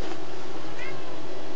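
A cat meows once, a short tonal call in the middle of a steady background hum indoors, at moderate loudness with no talking over it.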